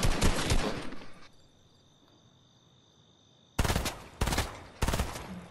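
Gunfire rattles in an online shooter game match, a loud burst of rapid shots, a quiet gap with faint insect-like ambience, then three more sharp bursts in quick succession.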